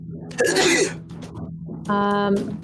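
One sharp sneeze bursts out during a tabletop role-playing game session, followed moments later by a short voiced sound, both close and in an otherwise quiet room.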